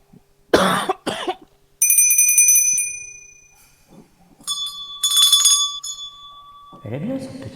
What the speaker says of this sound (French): Elle est bien cette petite cloche.